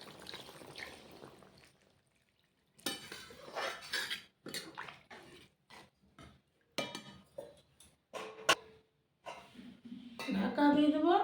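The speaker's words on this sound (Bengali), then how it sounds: "এবার দিয়ে দেবো জল।" Water goes into a pan of fried spices for a Bengali rui fish curry with drumsticks: scattered clinks and scrapes of utensils, then a loud, steady rushing pour with hissing sizzle at the end.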